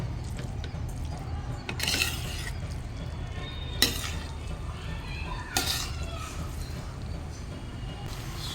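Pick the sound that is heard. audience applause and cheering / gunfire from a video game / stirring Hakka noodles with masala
stirring Hakka noodles with masala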